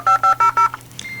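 Touch-tone telephone dialing of a dial-up modem: four quick, loud, evenly spaced beeps, then a brief pause before a softer, higher tone begins.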